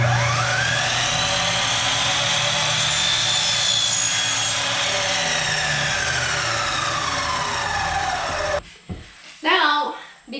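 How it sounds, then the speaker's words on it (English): Power saw cutting wooden window trim in an off-grid cabin build: a loud, close, sustained whine that climbs and drops as the blade moves through the wood, then stops, followed by a brief voice. "Let's get the trim cut."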